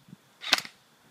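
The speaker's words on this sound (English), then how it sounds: "And that is the shooting test for the G&G Combat Machine Pneumatic Blowback Edition." A single sharp shot from a G&G Combat Machine pneumatic blowback airsoft gun fired at a distant outdoor target, brief and crisp, with quiet surroundings.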